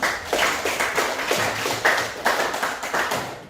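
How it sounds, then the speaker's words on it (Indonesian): A school class clapping hands, a distinct rhythmic patter of claps in a fairly close room, repeated in short bursts with a few louder hits. "Tepuk tangan dulu."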